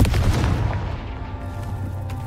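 A Confringo spell explosion in a Harry Potter video game opens with a heavy, booming burst that rolls off into a rumbling decay over about two seconds.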